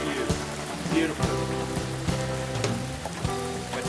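Rain falls on a mountain trail at Standing Indian Mountain in North Carolina, making a steady, close patter of drops with scattered louder splashes throughout.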